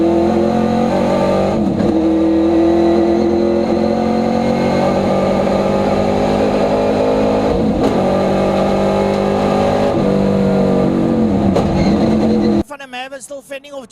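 Race cars scream past on a circuit in a continuous loud, high-revving drone, with several Doppler swoops as cars pass close by, under a race commentator's voice, ending abruptly near the close.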